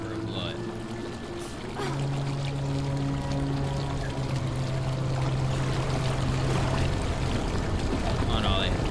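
Water streams and pours steadily while crossing a river of blood in the video game Bramble: The Mountain King, a continuous rushing wash with faint sustained tones underneath.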